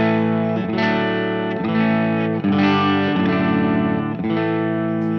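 Electric guitar chords ring out through the clean channel of a Laney LOUD pedal amp, sustained strums changing every second or so, rich and close with no talk.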